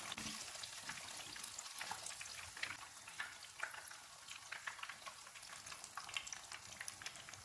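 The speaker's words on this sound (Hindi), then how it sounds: "फ़िश फ्राई हो गई है। इसको निकाल लेते हैं।" Fish frying in hot oil for a Lahori fish fry, a steady close bubbling sizzle with light stirring throughout, no voices.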